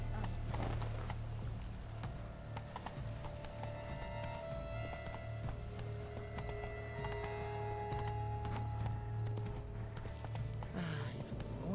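A horse's hooves clip-clop steadily at a distance beneath a continuous low hum and scattered background noise, with a faint neigh, in a game setting.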